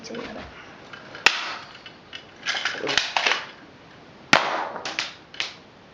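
Toy Uzi gun firing plastic pellets in a few sharp snapping shots, each followed by faint rattling and clicking, spaced irregularly in a quiet setting.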